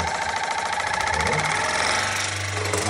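An Ovonni oral irrigator water flosser with multiple nozzles runs with a steady, close, continuous motorized buzz and hum that holds without a break for about three seconds.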